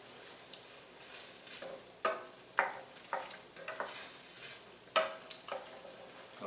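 Softening onions for chicken curry sizzle quietly in a pan while a spoon stirs them in a series of soft scraping strokes, close and faint, with no talk.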